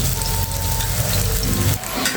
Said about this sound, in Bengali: তেল গরম করেছি ওর ভিতরে দিয়ে দিচ্ছি